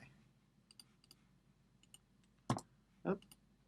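A computer keyboard being pressed for a Ctrl Shift V shortcut, faint light ticks followed by two distinct louder key clicks close together, in a quiet room.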